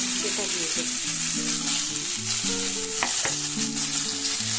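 Ground green peas fry in a hot wok seasoned with asafoetida, giving a loud, continuous sizzle with stirring and a few sharp utensil clinks, and no voices.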